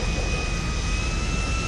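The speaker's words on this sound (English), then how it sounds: "It's just a plane." An airplane in the video game GTA Online drones with a steady, loud jet-engine roar and a thin high whine, constant throughout the short stretch with no voices.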